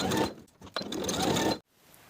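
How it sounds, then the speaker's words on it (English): A sewing machine runs in two bursts while basting the elastic edges of a dress panel for a shirred open-back summer dress: a brief whirring run, a short pause, then a longer steady stitching burst that stops abruptly. "Then I'll quickly baste each of those edges to hold them in place."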